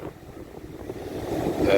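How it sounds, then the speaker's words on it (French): Wind blows outdoors, buffeting the microphone in a low, rumbling gusty roar that swells louder toward the end. "un petit peu de vent là, un petit peu de vent, désolé"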